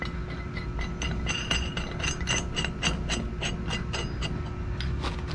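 Bolts are tightened on the manhole cover of a commercial steam boiler, giving a steady run of quick metallic ratcheting clicks up close, with a constant hum of equipment behind them.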